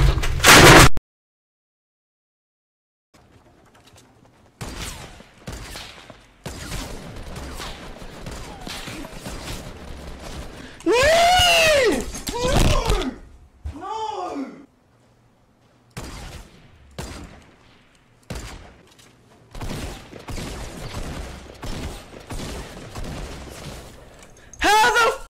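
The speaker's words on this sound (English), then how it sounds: "I'm gonna shoot this guy's body." Gunfire in the Fortnite video game, a series of short sharp shots and bursts separated by silent gaps, with a few louder ringing hits midway.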